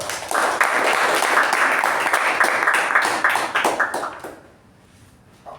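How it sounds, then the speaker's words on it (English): Applause from attendees at a club meeting: close, brisk clapping from a modest group that holds steady for about four seconds, then thins into scattered claps and fades to quiet. "Let's give a big round of applause."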